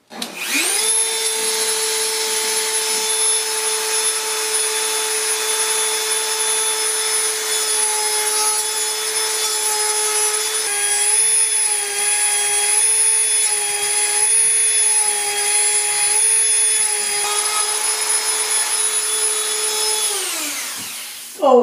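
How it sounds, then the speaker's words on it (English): A Dremel with a cutting wheel slices through a plastic taillight lens for a 1976 Mazda RX-5 Cosmo, a loud, steady high-pitched whine held for about twenty seconds, dipping slightly under load before spinning down at the end. "attack an almost irreplaceable set of taillight lenses with a Dremel and a cutting wheel"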